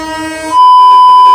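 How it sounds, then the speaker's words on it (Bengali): A loud, sustained train horn blares with steady harmonic tones, rising in intensity and holding a piercing high note nearby. "আরেকটা ট্রেন আসছে।"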